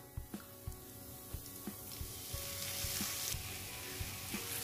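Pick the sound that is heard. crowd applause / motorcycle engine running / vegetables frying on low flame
vegetables frying on low flame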